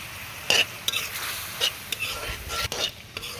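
Chopped tomato being stirred and fried in spice masala, a soft sizzling bed punctuated by irregular scraping and clinks of a spoon against the pan, close-up and without voices.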